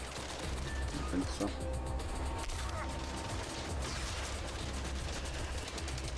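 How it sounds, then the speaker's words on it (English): Gunfire from a hostile bot in Mindseye, rapid shots rattling at a distance under continuous game noise, with a brief spoken voice over it. "There's something that's still shooting me."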